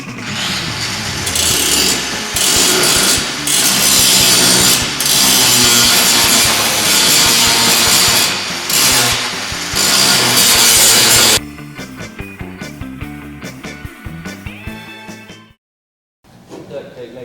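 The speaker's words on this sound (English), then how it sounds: "It worked out to my advantage to go ahead and cut this little section out, because underneath that was more rust" Power saw cutting out a rusted section of a Karmann Ghia fender, loud and sustained with brief pauses, then quieter intermittent scraping and tapping before a short silence.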